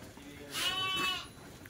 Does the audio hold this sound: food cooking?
no